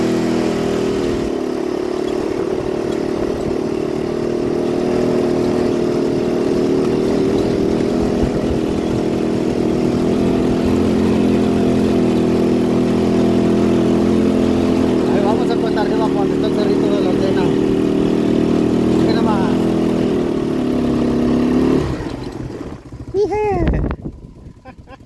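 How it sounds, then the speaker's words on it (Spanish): A small motorcycle engine labors uphill on a hillside road near Valparaíso, a steady, close droning hum that holds for about twenty seconds before cutting out abruptly. "No crean que mi moto es cuatrimoto, pero... pero le echa ganas esta motito."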